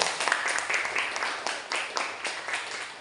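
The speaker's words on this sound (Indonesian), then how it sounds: "Beri tepuk tangan kepada Aldi." Schoolchildren clap steadily together in a classroom for a classmate named Aldi, a dense, lively burst of hand claps lasting throughout.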